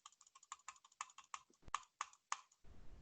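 Quick, light computer mouse clicks tap out in an irregular run, some sharper and louder, followed by a soft hiss at the end.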